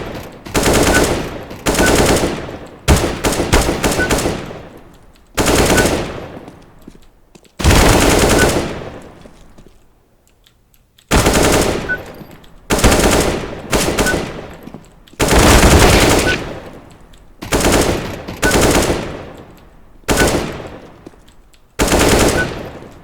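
Automatic gunfire in full spray during a site-clearing firefight. Loud, close bursts of rapid shots repeat one after another with short gaps between them.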